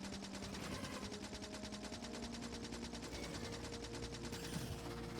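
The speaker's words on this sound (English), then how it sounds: "and I can still shoot the nest." Rapid automatic gunfire from the video game Factorio, shooting at a biter nest, rattles in a dense steady stream for about five seconds at moderate level, with no talking over it.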